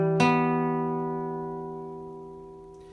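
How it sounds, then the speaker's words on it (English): A single guitar minor triad chord is strummed once and left to ring, decaying slowly and evenly for a few seconds, close and clear with no other sound. "Now, your minor triad is going to sound like this."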